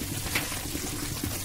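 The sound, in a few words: water being poured into a cooking pot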